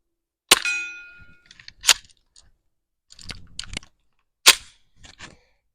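A Stribog TR22 fires suppressed subsonic .22 rounds outdoors, several sharp, quiet pops spaced a second or more apart, each followed by faint mechanical clicks and handling noise.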